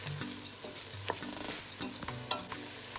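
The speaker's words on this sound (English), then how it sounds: "I like to fry the rice up because it gives it a chance for all those ingredients to really marry in well together" Rice with black-eyed peas and channa fried in a pot, a soft steady sizzle with repeated light stirring scrapes every half second or so, close but fairly quiet, no voices.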